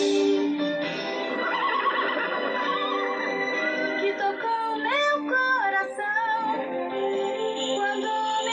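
In the animated cartoon Cavalo de Fogo, a horse gives a long, loud whinny with rising and falling pitch over a continuous sound bed, clear and close, with no talking.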